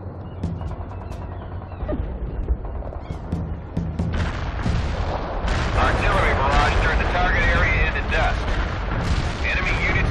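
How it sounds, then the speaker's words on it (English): An artillery barrage in World in Conflict: Soviet Assault, with repeated booming shell impacts that build into a dense, roaring wall of explosions, loud and close, with radio-style voices in the mix. "Artillery barrage inbound."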